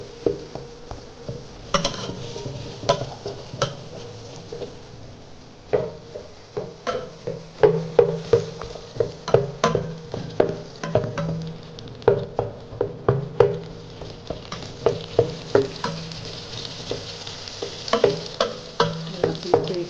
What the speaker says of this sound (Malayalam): ഒന്ന് വഴറ്റി ഉള്ളി ഒന്ന് കൂടുതൽ വരടല്ല, ഒരു കണക്കിനായാൽ മതി.